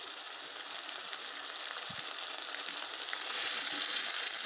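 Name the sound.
frying ginger garlic cumin paste with browned onions in oil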